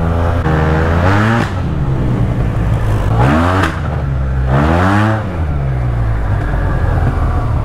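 A Yamaha TMAX scooter set up for desert riding revs hard and loud in three long climbing bursts, each pitch sweep ending in a drop back to a rough, close idle.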